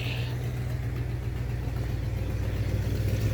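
A truck engine idles a little high, close and steady, with an even low rumble and a constant hum and no change in speed.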